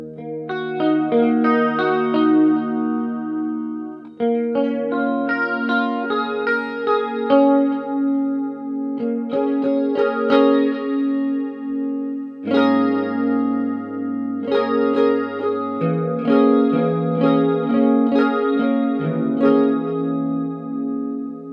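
An electric guitar played through a Positive Grid Spark 40 amp set to a Roland Jazz Chorus style tone with chorus and reverb, ringing chords and melodic lines sustaining continuously, shimmering and spacious, with no talking.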